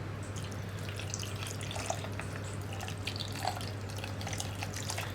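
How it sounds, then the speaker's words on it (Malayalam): A cup of water is poured onto grated coconut to make the second coconut milk, heard as a faint, steady trickle over a low background hum, with a few soft drips and no speech. "അതിനാണ് 1 കപ്പ് വെള്ളം ചേർക്കുന്നത്"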